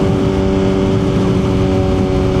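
A Suzuki GSX-R 1000 motorcycle engine runs loud and steady, close by, holding a strong idle-to-mid rev drone without pause throughout.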